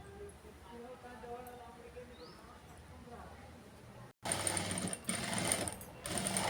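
A sewing machine stitching a blouse: soft, rapid rhythmic stitching at first, then a sudden louder, close run of mechanical whirring and clatter with short pauses between bursts.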